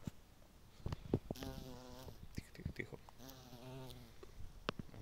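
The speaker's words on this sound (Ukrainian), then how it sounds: "Джмелі працюють." Bumblebees buzz around blooming flowers outdoors, two distinct droning passes close to the microphone over a quiet background with light rustling.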